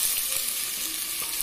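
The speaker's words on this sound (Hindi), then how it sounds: "ऑयल गरम ही था और उसमें मैं डालूँगी 3 टीस्पून अदरक लहसुन का पेस्ट, और इसे हम थोड़ा सा भून लेंगे" Ginger garlic paste fries in hot oil with a dense, bright, continuous sizzle, close and fairly loud, holding steady for a brief moment without any voices.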